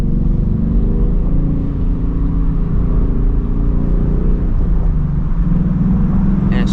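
Steady, loud engine drone from a 2024 Ford Mustang GT driving through the city at night, a continuous low rumble that shifts slightly in pitch, with a voice speaking over it.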